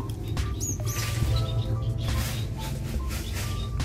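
African lovebirds, an opaline pair in an aviary, give sharp, high chirps and squeaky calls in quick, irregular bursts, close and fairly loud over a busy background.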